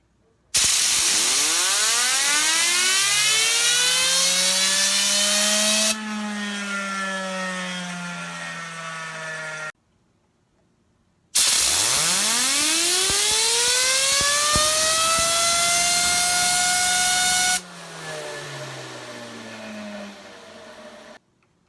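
Fidget spinners blasted by an air compressor in spin tests: two long bursts of loud rising whine with a rushing air hiss, each shifting pitch midway, separated by a brief silence.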